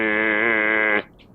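A human voice imitates a race car engine's pitch just after it passes, a single sustained buzzing tone that dips slightly and cuts off abruptly after about a second.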